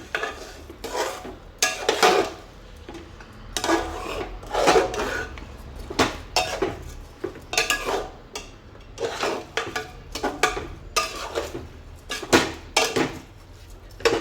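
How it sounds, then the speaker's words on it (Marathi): Khandeshi masala rice being stir-fried with salt in a pot: repeated close scraping and clinking of a spoon against the pot in uneven bursts, with short pauses between strokes. "मस्त आता परतून घेऊया."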